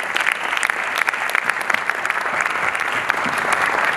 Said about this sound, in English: stand up so we can clap for you